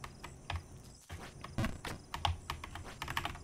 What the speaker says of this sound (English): I apologize for my keyboard sounds.